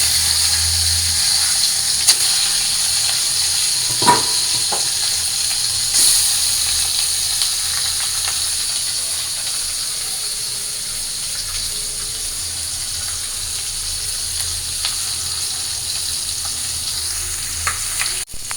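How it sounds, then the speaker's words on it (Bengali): Fish heads fry in hot oil in a pan, a loud continuous sizzle and crackle held close throughout, with a few faint clinks early on. "তো মাথাটা ভাইজা নিই।"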